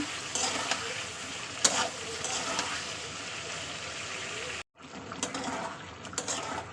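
Potatoes with tomato and green chili sautéing in a pan, a steady close sizzle with occasional stirring scrapes, briefly cutting out before the frying noise resumes.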